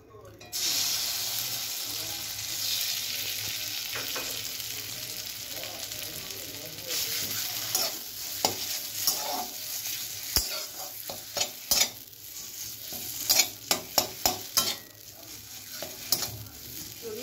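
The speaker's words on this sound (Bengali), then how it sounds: "এবার আমি এটিকে একটু 2 মিনিট কড়াইতে নেড়ে নেব।" Black cumin paste sizzles steadily in a hot kadai while a spatula scrapes and knocks against the metal, the stirring clicks growing sharper and more frequent toward the end; no one speaks.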